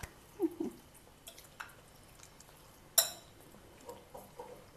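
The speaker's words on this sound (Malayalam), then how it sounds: "ഞാൻ ഇളക്കട്ടെ" A spoon stirs a potato mixture in a pan in a home kitchen, with quiet, sparse wet squishes and a few light clinks against the pan, no talking.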